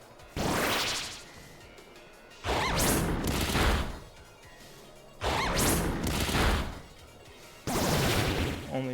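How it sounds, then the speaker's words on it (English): Garchomp's Scale Shot attack in a Pokémon video game battle lands as a series of four loud, evenly spaced crashing bursts, each a sharp impact with a sweeping whoosh that fades before the next. "Let's click scale shot again."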